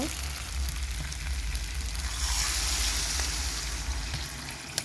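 Water is poured into a pan of frying potatoes and stingray fish, turning a steady close sizzle into a louder rushing hiss midway before it settles back, then a sharp knock at the end.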